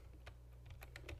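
Keystrokes on a computer keyboard while information is entered for a WordPress site setup, a few quick close taps in irregular bursts over a steady low hum, with no voices.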